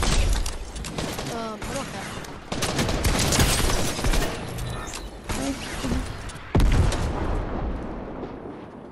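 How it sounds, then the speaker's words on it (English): Rocket launcher blasts in Fortnite, with loud explosive booms and heavy gunfire crackle close by in repeated bursts, and players talking over the action. "Somebody shooting rocket launchers, I don't know where from, but oh, from the top."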